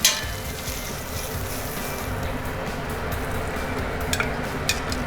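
Steady broadband crackle and hiss of meat frying in a hot pan, continuous throughout with a few brighter pops near the end.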